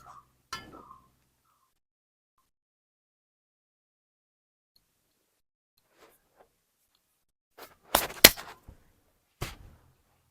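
A metal kadai set down on a stove: mostly quiet, then a short cluster of sharp metallic clanks and knocks near the end, with a lone click earlier.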